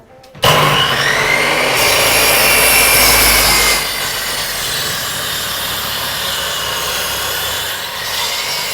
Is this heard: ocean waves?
no